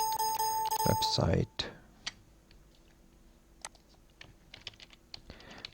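Typing on a computer keyboard: scattered, faint individual key clicks at an uneven pace following a brief burst of louder tones, with no other sound around them.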